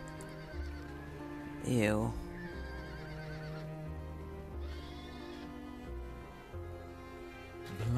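A black horse in a video game whinnies loudly once, a rising and falling neigh, over game music, with a person talking.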